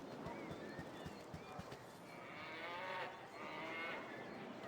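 A cow moos in Baldur's Gate: Enhanced Edition at a farm setting, a long, low drawn-out bellow rising over faint game ambience in the second half, with a brief voice underneath.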